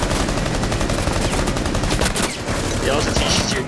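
An SMG-11 submachine gun in Rainbow Six Siege fires in rapid automatic bursts, a dense loud rattle of shots with brief pauses between them.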